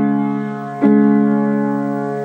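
One bar of a piece from Twilight is played slowly on piano: a sustained chord rings and then a second chord strikes and fades, clear and close with no talking.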